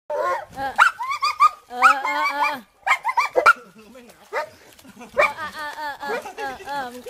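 A dog grieving at its owner's grave whimpers and whines in repeated high, wavering cries, heard alongside someone speaking.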